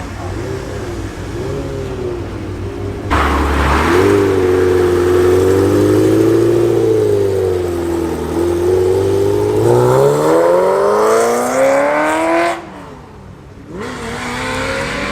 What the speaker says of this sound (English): Very purposeful sounding Corvette Z06 rolling in now. That of course has the LS V8 engine in it